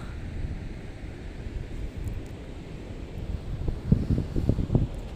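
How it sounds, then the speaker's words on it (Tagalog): Wind blows at the seaside in Real, Quezon, a steady low roar with microphone buffeting that swells into stronger gusts toward the end. "Ang sarap ng hangin."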